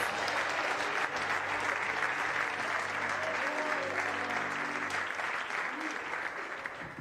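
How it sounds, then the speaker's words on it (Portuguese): Sustained congregation applause at a church celebration service, a dense wash of clapping holding steady for several seconds, with a sung or spoken voice faintly underneath and the clapping easing toward the end. "dê a melhor salva de palmas que você conseguir ao Deus da Tua salvação"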